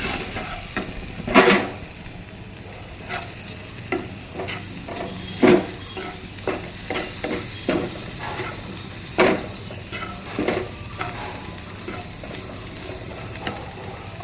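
Spiced masala frying for chicken tikka butter masala is stirred in a pan, a steady sizzle broken by repeated scraping stir strokes at irregular intervals, with no talk.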